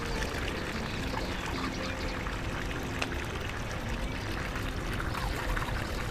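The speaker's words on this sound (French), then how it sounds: "L'eau, elle traverse, elle arrive ici pour arroser le vaso." Irrigation water runs along a garden channel, making a continuous, even rushing and trickling wash that stays close and steady, with no speech.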